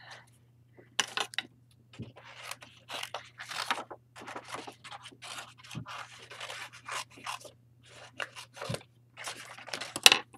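Fancy decorative shears cutting a leaf shape out of paper for handmade paper flowers, a close series of crisp snipping and rustling scrapes in short bursts with brief pauses between cuts.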